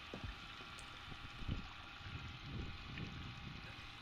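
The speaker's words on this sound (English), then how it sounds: "it has such a smooth water flow" A steady, smooth flow of water runs through a three-way silicone mat gold sluice, a low continuous wash with faint gurgles, moderately quiet and unbroken, no voices.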